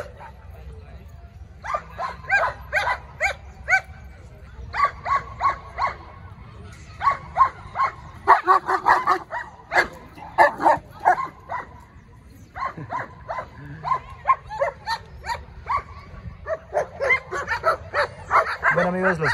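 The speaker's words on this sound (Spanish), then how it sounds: "Están muy inquietos ahora los perros, ¿no?" Several adult German Shepherd dogs bark and yip close by in rapid, irregular bursts, often overlapping, with brief lulls between volleys.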